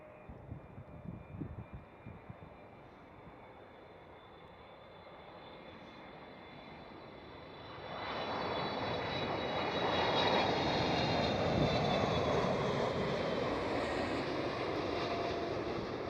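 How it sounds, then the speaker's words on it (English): KLM Boeing 777-300ER at Schiphol airport, distant jet engines rising from a faint hiss into a broad, steady roar as the aircraft draws nearer, with a high whine on top and no talk. "And it was a KLM 777-300ER."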